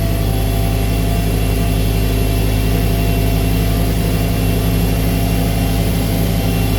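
A Cessna 180 small airplane climbs after takeoff, its engine and propeller droning loud, close and unbroken from start to finish.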